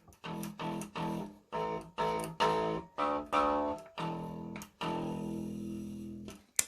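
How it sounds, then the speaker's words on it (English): Bass guitar with a buzzing bridge plucked in a run of short separate notes and then a longer ringing one, the tone gritty with a rattling buzz, close and moderately quiet, no talking. "The bridge definitely buzzes a lot."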